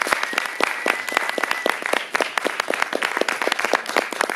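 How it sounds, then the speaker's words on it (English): A theater audience claps after a film Q&A with director Jenny Suen at SFFILM, dense sustained applause filling the room from start to finish, loud and close, without speech. "please give one more round of applause for Suen"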